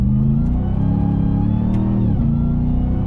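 RAM TRX pickup pulling hard in first gear, a loud, close, continuous engine roar whose pitch climbs and then dips near the end as revs shift, steady throughout with no talking.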